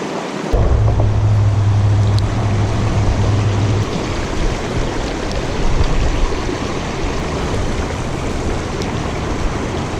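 Water pours over a roadside creek spillway in a loud, constant broadband roar. A low hum runs under it during the first few seconds.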